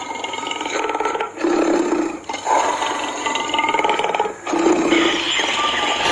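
A deep, rumbling animal roar in long, repeated bursts, loud and close, with brief pauses between each drawn-out growl.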